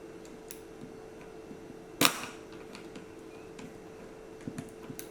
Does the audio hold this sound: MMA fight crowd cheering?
no